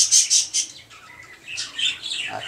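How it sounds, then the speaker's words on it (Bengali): Budgerigars at a bird farm in Gaibandha chirp and squawk in busy overlapping bursts, several loud close calls at first, then a denser flock twittering continues without any talk. "এই ফার্মে অনেক বাজরিগার আছে, আমরা দেখানোর চেষ্টা করব"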